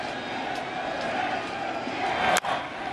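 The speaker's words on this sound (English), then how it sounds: "this crowd is groaning here in the first inning" Large baseball stadium crowd at a 2019 World Series game between the Houston Astros and Washington Nationals, a steady dense murmur of many voices swelling into a groan with bases loaded in the first inning, continuous and enveloping.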